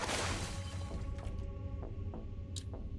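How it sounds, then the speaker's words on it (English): Glass shatters in the zombie survival game Cataclysm DDA, a sharp crash at the start followed by scattered lighter impacts and a steady low game rumble. "I hear glass breaking"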